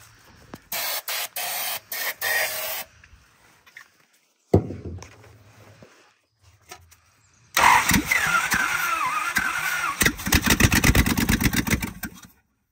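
A 1970 Dodge D300 wrecker truck with one exhaust header missing, cranking in loud bursts with gaps between, then catching and running roughly with sharp popping and uneven sputtering from the open exhaust port.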